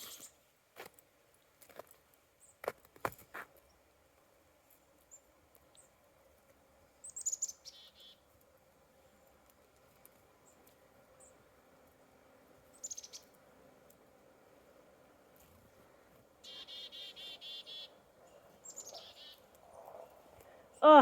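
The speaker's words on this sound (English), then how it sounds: "these little birds are so cute" Small birds chirp in a forest at an off-grid homestead, with short scattered high calls and a brief burst of twittering near the end, fairly faint over a quiet background.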